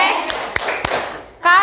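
A primary school class claps a rhythmic cheer, three sharp, evenly spaced hand claps ringing in a classroom before a voice rises loudly right after.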